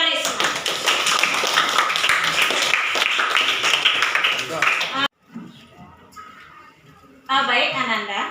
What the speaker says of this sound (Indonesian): Kita kasih aplaus buat Selfie dengan Karisma.